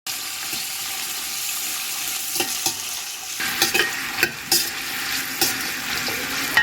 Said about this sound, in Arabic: هنشوحه لمده 3 دقايق لحد ما ناخد الشكل ده